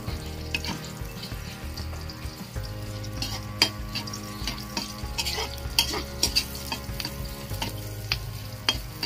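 Garlic sautéing with onions in a pan for chicken curry: constant close frying sizzle with repeated spatula scrapes and clinks against the metal, no voices.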